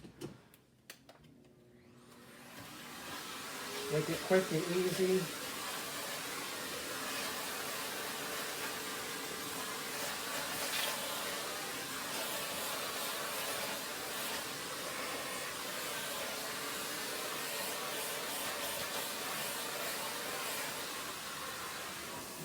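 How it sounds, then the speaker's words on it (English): A central vacuum starts up and runs with a steady, loud whooshing hiss, briefly changing pitch as it cleans the front grill of a Boston Harbor floor fan; a voice speaks briefly early on. "I'm going to vacuum the front grill off"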